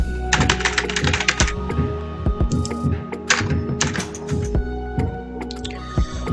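Someone types a legal name on a computer keyboard while filling in a tax form, bursts of quick close key clicks separated by short pauses and a few heavier key thunks.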